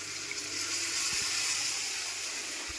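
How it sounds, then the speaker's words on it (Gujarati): Water is poured into a pan for Maggi noodles in a home kitchen, giving a soft, continuous splashing hiss with a couple of faint knocks and no voices over it. "હવે આપણે આમાં થોડું પાણી નાખી દઈએ"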